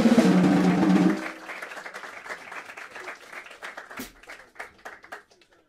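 A jazz club audience at Le Duc des Lombards in Paris breaks into applause as loud music cuts off, then scattered claps and cheers carry on, thinning and fading toward the end.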